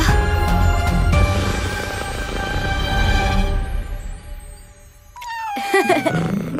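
A cartoon cat lets out drawn-out meows and a wavering caterwaul over busy background sound, then after a short lull gives a few sharper, rising cries near the end.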